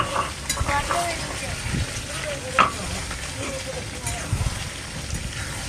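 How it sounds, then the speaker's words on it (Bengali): Mutton frying in a pot being stirred, a continuous sizzle with occasional scrapes and clinks, while people talk in the background. "এবার আমি মাংসটা ঘাটবো, দেখবো কেমন হয়েছে"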